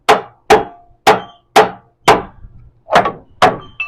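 A hammer strikes a car subframe during MN12 subframe removal, seven sharp close metallic taps spaced about half a second apart, loud and alone.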